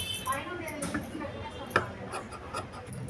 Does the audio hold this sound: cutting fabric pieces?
yes